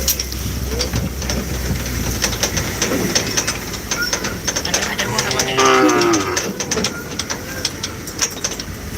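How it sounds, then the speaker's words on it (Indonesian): Cattle being fetched for kerapan sapi bull racing in Madura bellow and moo amid a busy, noisy outdoor scene with steady background clatter and hiss, the calls moderately near. "Ini lagi menjemput sapi,"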